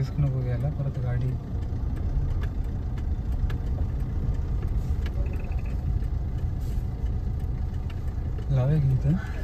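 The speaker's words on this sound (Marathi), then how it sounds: "आता आम्ही गाडी पार्क करायला निघालोय।" A car engine runs in a low, steady rumble as the vehicle heads off to park near the Jejuri temple hill. People talk over it at the start and end.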